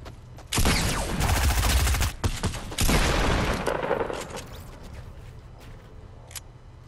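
Gunfire bursts in the Fortnite battle royale video game, a rapid loud fusillade of shots for about two seconds, a short pause, then another burst that trails off into quieter game ambience.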